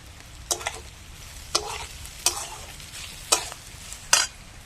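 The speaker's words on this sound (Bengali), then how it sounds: "মশলাটা কষিয়ে নেব।" Spice masala stir-fried with salt in a pan for a mung dal and banana flower dish, steady sizzling broken by five sharp scraping stirs at regular intervals, close and loud.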